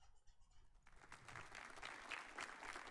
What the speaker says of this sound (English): you can hear the clapping